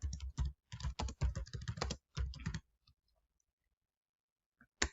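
Text is typed on a computer keyboard in quick irregular bursts of close key clicks, a few clusters of rapid taps followed by a pause and a couple of isolated keystrokes.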